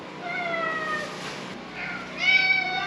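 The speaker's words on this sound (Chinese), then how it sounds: "嗨，猫咪。" A cat on an old street meows several times up close, drawn-out and tonal, with a brief pause between calls and no talking.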